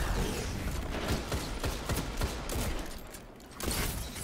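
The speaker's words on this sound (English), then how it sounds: "I don't even know where he's shooting me from." Rapid gunfire from a Destiny 2 player-versus-player match crackles in dense, sustained bursts with a brief lull near the end.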